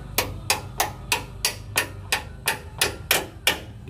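A hammer taps lower control arm bolts out of a Ford Ranger or Mazda BT-50 suspension during an Outback Armour install, with eleven even metallic strikes at a steady rhythm, close and sharp with no talking.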